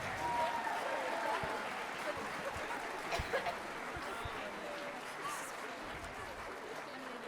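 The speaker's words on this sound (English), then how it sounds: "How about another round of applause for that awesome 8th grade band?" Audience applause for an 8th grade band after a school winter band concert performance, a steady crowd clapping sustained for several seconds with some faint chatter and chuckles mixed in.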